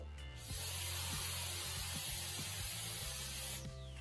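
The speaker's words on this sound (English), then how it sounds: "And then you spray." A can of gold spray paint hisses steadily onto a masked glass bottle, one continuous burst of about three seconds with a brief quiet before and after.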